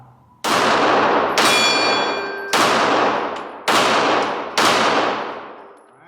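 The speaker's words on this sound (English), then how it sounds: "let's do some shooting. This time I will start with Glock 43X and try to hit that orange on the top." Five sharp Glock 43X pistol shots at an outdoor range, loud and close, spaced roughly a second apart, each with a brief ringing decay and a metallic ping on one shot.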